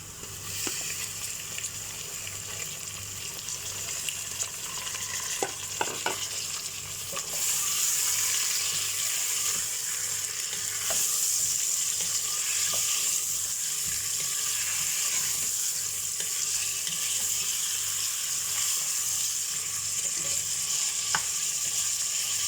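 Mutton frying with ginger and garlic in a pot, a steady broadband sizzle running throughout, louder after the first several seconds, with occasional faint stirring clinks and no talk.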